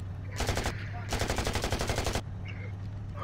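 Gunfire in the virtual-reality game Rec Room during a PvP match: two close bursts of rapid automatic shots, the second longer, over a low steady hum, with a quieter stretch after.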